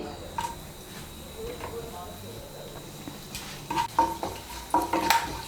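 A spoon stirs whole garam masala (cracked cardamom pods, cloves, a cinnamon piece) in hot oil in a pan, with a soft sizzle and a few sharp metallic scrapes and clinks near the end.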